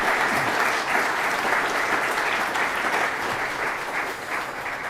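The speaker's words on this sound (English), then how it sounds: "Please, a round of applause for Paul, Lucy, Arooj, Aidan and Dave" An audience at a Greater Manchester development conference claps for a panel, a dense, even round of applause held at steady volume from start to finish.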